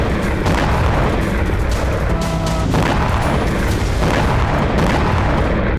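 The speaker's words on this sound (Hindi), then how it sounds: "लगातार धमाके हो रहे हैं।" Repeated explosions in Belgorod during drone attacks, heard as a dense, loud, continuous roar of booms and bursts that fills the whole stretch with no pauses.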